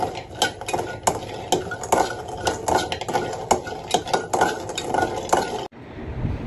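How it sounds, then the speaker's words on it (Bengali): Jackfruit seeds being fried in a pan at home, heard as steady stirring and scraping with a utensil against the pan, repeated clinks and a light sizzle underneath, close and continuous until the sound cuts off near the end. "তো মনে হলো যে লিয়ানাকে একটু কাঁঠালের বিচি ভেজে দেই"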